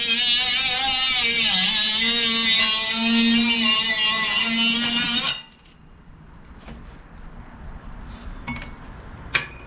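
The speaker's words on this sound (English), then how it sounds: "I'm going to take right about 2 inches off of this pipe that goes up over the axle" A power cutting tool slices through the exhaust pipe over the rear axle of a 6.0L-swapped Chevrolet Silverado, a loud steady high-pitched whine for about five seconds that stops abruptly, leaving faint shop clinks.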